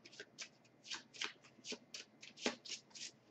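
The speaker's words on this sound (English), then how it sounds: "Shuffle the deck." A deck of playing cards being shuffled, quiet rapid riffles and soft slaps in quick irregular bursts, close and alone.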